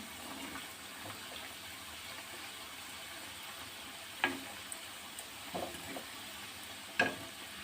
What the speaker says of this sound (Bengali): একটু লালচে বাদামি বাদামি করে একটু ভেজে নেব।